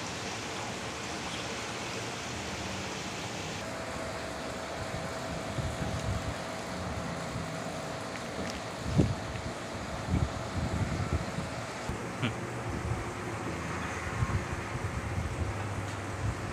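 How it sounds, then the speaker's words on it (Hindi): Small submersible pump driving a home-made aquarium waterfall fountain, giving a steady, continuous trickle and splash of running water close by, with a few faint knocks partway through. "ये वाटरफॉल चालू हो गया है।"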